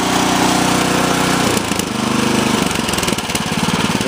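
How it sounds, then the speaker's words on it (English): A Cub Cadet RT65 rototiller engine runs loud and close after starting, a steady throbbing small-engine drone with a rhythmic chug that shifts slightly partway through. "We'll go ahead and fire one more time here so I can show you that again too"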